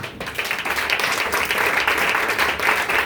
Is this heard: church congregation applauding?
yes